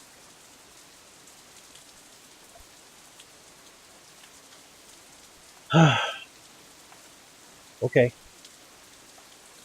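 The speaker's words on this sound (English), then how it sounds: "It's raining." Steady, faint rain falls throughout a scene in the visual novel game Katawa Shoujo, a soft continuous hiss broken by two short spoken words partway through.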